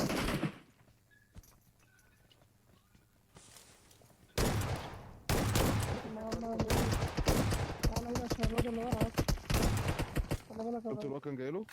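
Gunfire in the PUBG Mobile video game: rapid bursts of shots and volleys under excited voices shouting, with a quieter stretch before the firing picks up loud and dense.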